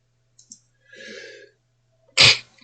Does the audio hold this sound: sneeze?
yes